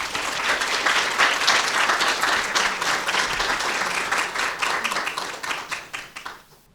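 A lecture audience welcomes the speaker with sustained applause. A dense, even wash of many hands clapping holds steady, then thins and fades out toward the end.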